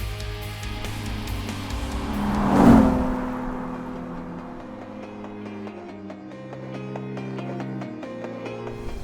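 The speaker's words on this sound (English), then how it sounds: "Riding in this Ferrari 458 Italia was amazing" A Ferrari 458 Italia drives past, its engine swelling to a loud peak and then fading into a steady lower hum as the car moves away.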